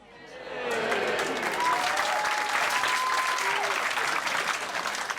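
Comedy club crowd breaking into loud, sustained applause and some cheering, rising quickly and holding steady for several seconds with no one speaking over it.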